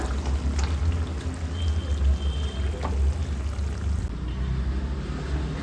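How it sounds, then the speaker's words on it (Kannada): Banana halwa with dry fruits, just off the stove, going from the pan into a ghee-greased box: a continuous, close, muffled rush with soft scraping that thins out near the end. "ತುಪ್ಪ ಸವರಿ ಇಟ್ಕೊಂಡಿದ್ದೀನಿ ಒಂದು ಬಾಕ್ಸನ್ನು ಅದಕ್ಕೆ ಹಾಕೊಳ್ಳೋಣ ಈಗ"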